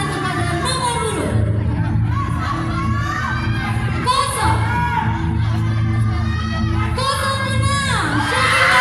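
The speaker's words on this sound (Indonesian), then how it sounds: "Beri tepuk tangan kepada nomor urut" An award ceremony audience cheers and shouts, with children's voices and crowd hubbub rising in loud, repeated waves.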